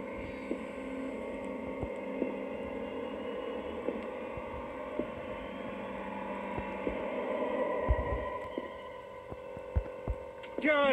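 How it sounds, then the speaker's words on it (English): A compressor in the Metel horror escape game drones with a steady low hum and throbbing undertone, continuous across the whole stretch with a few faint knocks and rises near the end. "Goddamn compressor."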